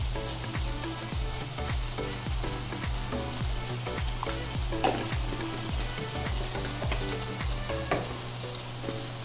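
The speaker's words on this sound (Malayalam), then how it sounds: "ഇത്രയായിട്ട് നമ്മൾ നന്നായിട്ട് ഒന്ന് വഴറ്റി കൊടുക്കണം." Tomato and spice powders (chilli, coriander, pepper) for a crab roast curry are sautéed in a pan, with a steady sizzle and frying crackle and regular scraping stirs, close and continuous.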